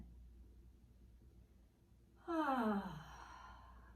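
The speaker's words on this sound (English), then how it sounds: "Breathing out." A single open-mouth exhale during a grounding lunar vinyasa yoga practice, a soft sighing breath that falls in pitch, close and clear after quiet room tone.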